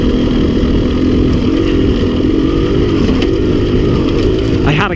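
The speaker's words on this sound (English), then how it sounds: "Looks like I've got this bike set to idle for a lot lower altitude because it's wanting to dip real low" Two-stroke motorcycle engine idling at very low RPM, a steady close low-pitched drone that holds throughout with slight wavering, with a brief higher sound near the end.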